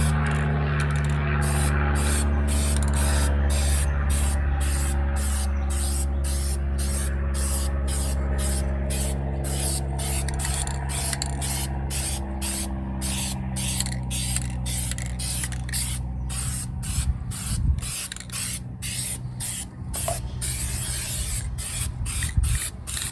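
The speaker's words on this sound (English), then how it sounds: "Now we take the Plasti-dip." Black Plasti Dip is sprayed onto the wheels of a 2023 Toyota Tacoma in rapid, rhythmic hissing bursts that pulse continuously over a steady low hum, close and loud, with some faint clatter toward the end.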